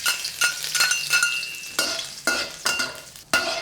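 Ginger stir-fried in a generous amount of oil in a smoking-hot wok, with loud continuous sizzling broken by repeated sharp scrapes and tosses of the spatula against the metal, close and without talk.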